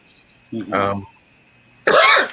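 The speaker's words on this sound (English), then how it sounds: "I'm coughing" Two separate coughs close to the microphone, the first rougher and throaty, the second sharper, with a short quiet pause between them.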